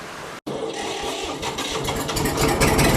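A Massey Ferguson farm tractor engine running close by, a steady rumbling drone after a brief cut, building slightly louder toward the end with no talking.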